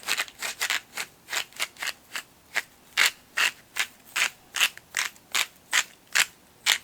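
A pepper grinder cranked over seasoned baby back ribs: steady, rhythmic ratcheting crunches, close and clear, repeating about twice per second with no talk.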